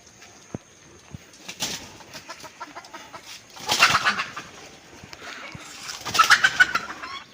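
Chickens and roosters perched in trees on a village property give soft, scattered clucks and calls, fairly faint, with a few louder bursts of calling near the middle and end.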